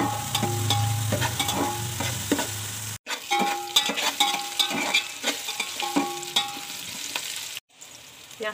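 Chopped onions fry in hot oil for a home-cooked biryani, a steady sizzle broken by repeated scraping stirs of a spatula against the pan, loud and close, with a brief gap partway through and no talk.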